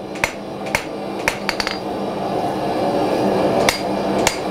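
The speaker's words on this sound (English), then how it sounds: "I'm working my light hammer blows, round side of the hammer, working one side only with it" Light hammer blows on a steel spear at the forge: sharp metallic strikes in an irregular rhythm, a few spaced single hits and a quick cluster, ringing clearly over a steady background hum.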